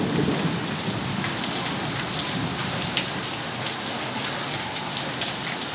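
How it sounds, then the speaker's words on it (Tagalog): Heavy rain pours down steadily at a street food stall, a dense continuous hiss of drops drumming on a surface, close and loud with no break. "Lakas ng ulan guys."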